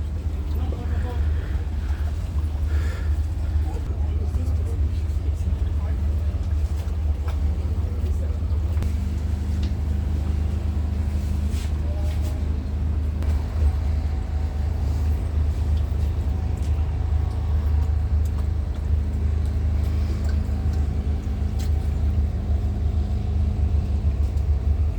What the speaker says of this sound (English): This one has 4 engines, so it should be really fast.